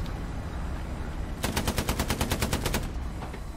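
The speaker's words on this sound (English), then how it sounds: "Shooting enemy outpost." A rapid automatic burst from a World War II weapon in the game Hell Let Loose, about a dozen evenly spaced sharp shots in just over a second, close and punchy over a low battlefield rumble.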